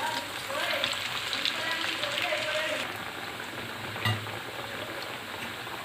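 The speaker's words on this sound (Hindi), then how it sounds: "ये भी इसी तरह से फ्राई कर लेंगे।" Chicken nuggets in the McDonald's style frying in hot oil, a steady close crackle and hiss like light rain that eases slightly partway through, with a brief low knock near the end.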